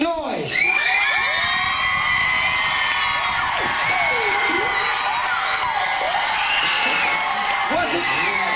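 A large crowd at a dance crew competition erupts in cheers, whoops and high-pitched screams, loud and sustained with overlapping yells rising and falling throughout.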